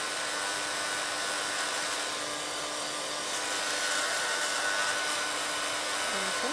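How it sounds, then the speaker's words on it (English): A hair dryer blowing steadily on a gesso-coated vintage altered book cover, a constant loud whooshing rush close by for the whole stretch, with no voices. "Let's just dry this off first."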